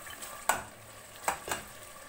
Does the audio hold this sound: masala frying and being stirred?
yes